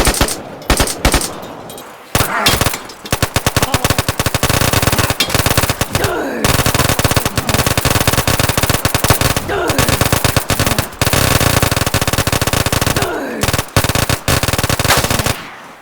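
Rapid bursts of automatic gunfire rattle almost continuously, loud and close, with brief pauses between volleys and an electronic, game-like sheen.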